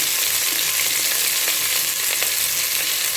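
Chopped onion, green chili and garlic fry in hot oil in a pan for a spiced rice porridge, giving a steady loud close sizzle with faint stirring clicks and no talk.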